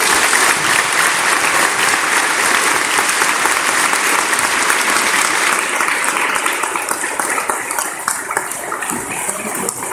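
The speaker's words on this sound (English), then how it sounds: "Applause" Sustained, loud audience applause after a talk, dense and steady throughout, thinning slightly toward the end.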